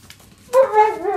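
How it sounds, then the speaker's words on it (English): A dog barks on a farm where a young foal is kept; one loud bark with a short trailing whine bursts in after a quiet stretch, close by and clear, with nothing else in the foreground. "Hear the dog barking again."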